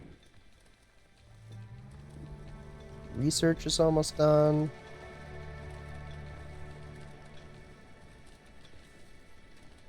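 Rain falls in the video game The Wandering Village, a soft, steady patter running through the whole stretch while someone talks over it near the middle.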